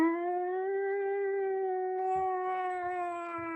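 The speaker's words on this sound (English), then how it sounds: "you hear it outside, but it is coming from within, up the vocal cords of the whale and resonating out" A whale call sound effect rings out as one long, sustained, resonant moan with rich overtones, holding a nearly steady pitch throughout, with a few soft low thumps near the end.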